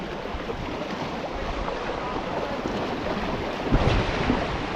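A strong river-like current rushes over rocks at a rocky fishing spot, a loud, steady broadband roar with buffeting wind on the microphone and a brief surge near the end.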